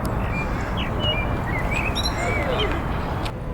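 A blackbird sings from a tree close by on a sunny day, its varied whistled phrases rising over a steady broadband outdoor background noise.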